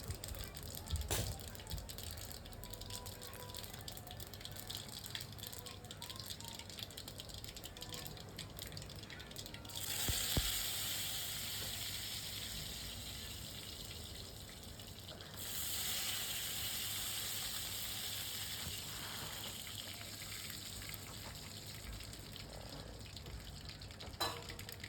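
Tempering spices crackling in hot oil in a home kitchen, a faint hiss and scattered pops that swell into louder bursts of sizzling midway through, against a quiet background.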